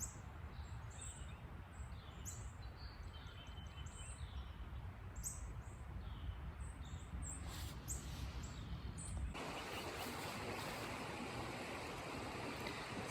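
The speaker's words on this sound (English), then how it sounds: "this little section was full of little songbirds just a minute ago. But if you listen, you can hear them." Little songbirds near a creek by an old mill site chirp faintly and sporadically, with thin, scattered tweets riding over a soft, steady rush of flowing water and no talking.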